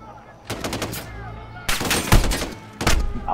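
Bursts of automatic gunfire in Call of Duty Modern Warfare, three loud rapid volleys separated by short pauses, close and sharp.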